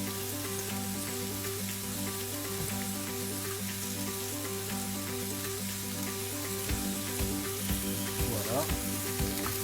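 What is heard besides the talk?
minced meat frying in a pan for French tacos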